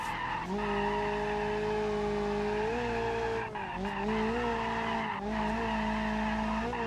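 Drifting car tires squeal and skid continuously in the BeamNG driving game, with a loud sustained engine note rising and dipping in pitch through the slides and no voices.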